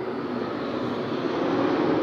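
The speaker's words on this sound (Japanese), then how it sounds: "飛行機がねめっちゃ飛ぶんですよ。" A steady, broad rumbling roar of an airplane fills the air, distant and constant, with no voices.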